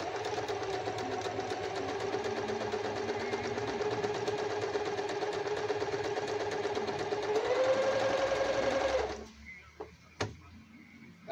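A Yokoyama sewing machine stitching with a needle-clamp screw broken inside, a steady close mechanical whirr that speeds up briefly before stopping abruptly, followed by a couple of sharp clicks and handling knocks.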